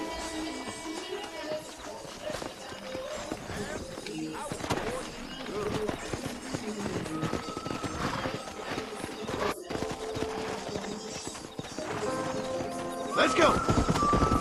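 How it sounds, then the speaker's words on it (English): Horses gallop and neigh during a wrangling scene in the western video game Red Dead Redemption, with hooves clattering steadily under game music and ambient effects while characters talk. "Let's see if we can't wrangle some horses."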